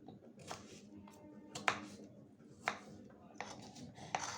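A knife slices a bottle gourd (lau) into thin strips on a board, making repeated crisp cutting taps at an uneven pace, close and fairly soft.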